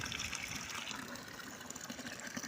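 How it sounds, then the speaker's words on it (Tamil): Water runs steadily from a tap as hands are washed at a farm, a continuous close gushing stream with no pauses. "நான் கை கழுவிக்கிறேன்"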